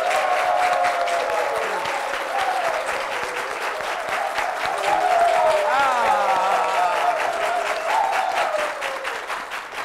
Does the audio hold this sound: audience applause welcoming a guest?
yes